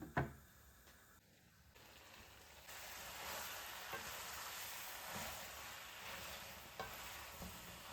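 Eggplant, carrots and potatoes fry in a pan, a faint, continuous sizzle with occasional soft stirring scrapes and clinks, heard alone without voices.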